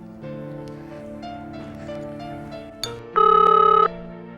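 A telephone sounds while a call is placed, heard as one short, loud, steady ring tone that cuts in over soft background music near the end.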